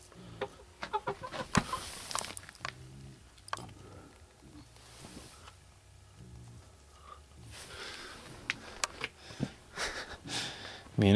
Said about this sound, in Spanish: Ahí está la gallina.